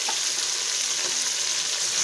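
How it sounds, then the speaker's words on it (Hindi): Spices fry with tomatoes in a pot for an aloo palak dish, giving an even, close hiss of sizzling with soft stirring beneath and no one talking. "अब मसालों को हम भून लेंगे"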